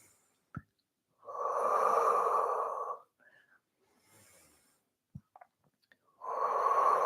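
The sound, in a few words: breathing in and out during Pilates exercise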